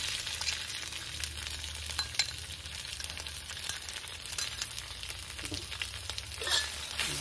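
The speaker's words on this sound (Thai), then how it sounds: "แล้วก็ผัดพริกให้หอมนะคะ" Chili sizzles and crackles steadily as it is stir-fried in a little oil in a pan, a close, continuous frying sound broken by occasional scrapes of stirring.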